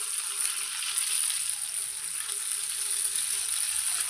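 Small balls of potato and rice batter drop into hot oil for bajji, giving a steady, bright sizzle of deep frying that holds even and moderately loud for a few seconds, with no voices.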